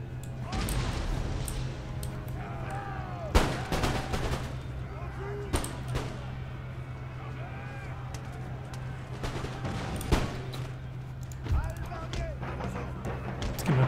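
Artillery in Empire: Total War fires canister shot, several sharp booming blasts spaced a few seconds apart over a low steady battlefield hum, with a voice talking in between.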